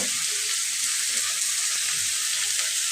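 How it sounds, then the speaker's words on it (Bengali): Sliced bitter gourd fries in a pan with salt and turmeric, giving off a loud, steady sizzle that stays constant throughout, with no voices. "এটাতে আমি করলা ভাজি করব"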